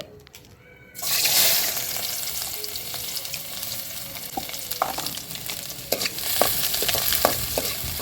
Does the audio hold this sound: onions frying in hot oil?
yes